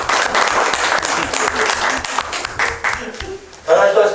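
Loud, dense applause fills a hall at a Korean local autonomy academic conference session, honoring a professor's presentation; the clapping holds steady, thins out near the end, and a voice then comes in.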